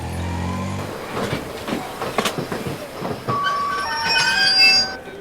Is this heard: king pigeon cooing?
no